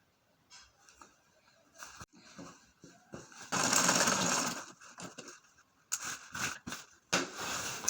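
A sewing machine stitches a buba garment close by, with a brief steady whirring run in the middle surrounded by choppy handling knocks and short mechanical bursts.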